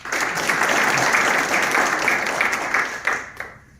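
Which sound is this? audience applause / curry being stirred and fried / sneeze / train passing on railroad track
audience applause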